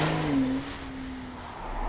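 A 2015 BMW X4 driving, a steady engine hum with a brief rising whine that fades, heard from inside the car at moderate volume, with no voices.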